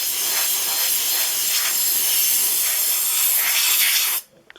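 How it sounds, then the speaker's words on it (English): Compressed air hisses steadily for about four seconds, blowing excess talcum powder off a distributor mold before resin casting, then cuts off abruptly into near silence. "I'll just lightly blow off the excess talcum powder here."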